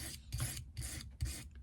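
Blades are sharpened with steady back-and-forth rasping strokes, four close passes in quick rhythm with a low scraping undertone, and no one talking.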